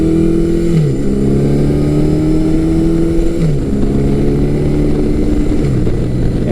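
A Yamaha 1100cc four-cylinder motorcycle pulls hard through the gears, its loud, close engine note climbing in pitch, then dipping briefly at each shift before rising again, with no talking.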